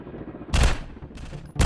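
Gunshots in a first-person shooter game, a Counter-Terrorist match: a loud, booming shot followed by a quieter crackle and then another sharp blast at the end.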